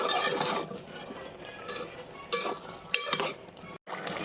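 Spoon stirring beef curry with potato and sponge gourd in a pot, close scraping and clinking strokes in irregular bursts, with short pauses and a sharp clink near the end.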